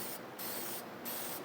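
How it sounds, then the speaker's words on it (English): Aerosol Maxima FFT air-filter oil sprays lightly onto a motorcycle air filter in short hissing bursts, three quick close puffs over a steady spray hiss. "we can get some of our Maxima Fab 1, which is an aerosol version of the FFT"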